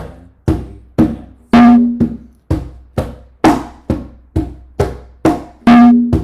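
Latin hand percussion plays a clave-based pattern with crisp offbeat muted strokes, and one resonant open tone falls on the 2 side of each cycle. The playing is loud, close and unaccompanied.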